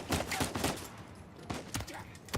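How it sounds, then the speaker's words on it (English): Several sharp gunshots crack in Uncharted 4, irregular bursts of loud close shots clustered at the start and again toward the end, with game noise between. "so he's gonna shoot me now."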